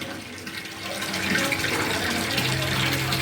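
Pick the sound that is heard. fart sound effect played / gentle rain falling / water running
water running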